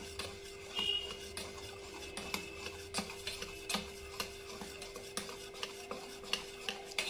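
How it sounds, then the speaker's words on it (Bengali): Close spoon stirring through eggless semolina sponge cake batter in a bowl, a steady run of soft scraping strokes and light taps against the bowl's side, with a constant faint hum behind. "এবার আমি নাড়তে থাকবো, ভালো করে নাড়াচাড়া করে নিতে হবে"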